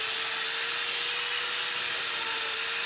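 DUALSAW CS 300 circular saw slicing through PVC, a loud, continuous close-up grinding whine with a steady pitch throughout.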